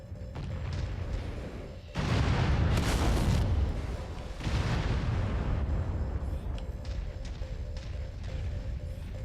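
Weapons fire from mechs in the MechWarrior 5 video game, heavy booming blasts over a constant rumbling engine drone, loud and sustained with layered impacts, no speech.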